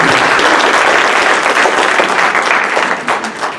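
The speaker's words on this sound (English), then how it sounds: "How about a round of applause for supporting our" Audience applause at a state audit rule training session fills the room, loud and dense throughout with steady clapping that begins to thin slightly toward the end.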